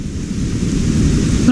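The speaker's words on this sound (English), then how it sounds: "Now it's really pouring down." Heavy rain pours down steadily around a Suzuki 250 outboard engine fitted with a splash cover, a dense, constant wash of noise that stays loud and even throughout without any talk.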